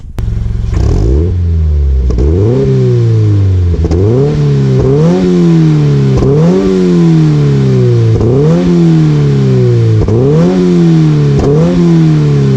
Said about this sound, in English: So let's do a startup.